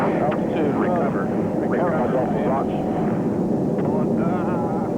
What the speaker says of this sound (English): The plane is now doing nearly 500 knots straight down towards the sun-baked rocks below.